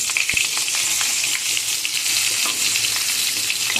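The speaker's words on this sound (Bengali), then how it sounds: "বেগুনগুলোকে সব ভালো করে ভেজে নেব" Eggplant slices frying in mustard oil in a kadai, a dense, bright, continuous sizzle with fine crackles and a few spatters, heard up close without talk.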